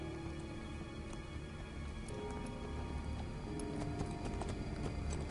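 Hooves of a galloping horse clip-clop in Assassin's Creed Brotherhood, a quick and even rhythm kept up for several seconds over soft game ambience, fairly quiet, with no speech.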